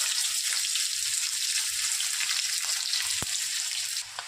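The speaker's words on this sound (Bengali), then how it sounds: "পেঁয়াজটা ভেজে নেব।" Onions frying in a pan for a dal made with jackfruit seeds and fish head, a dense steady hiss of sizzling oil with a single sharp clink near the end.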